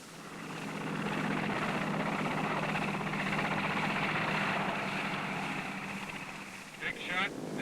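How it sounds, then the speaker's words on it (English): Navy helicopters launch from a ship, a broad, steady rotor and engine roar that swells and holds for several seconds before easing, with voices speaking over it. "tell the ship to launch the 4 helos"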